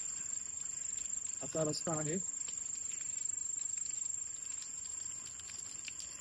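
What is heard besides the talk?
crickets chirping at night in a village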